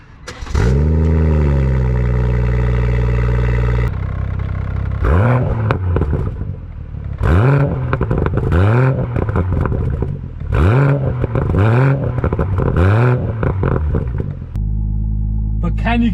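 Sports car engine revving hard in a series of rising and falling blips, about five sharp throttle bursts with pops and bangs from the exhaust, loud and close after a sustained rev at the start.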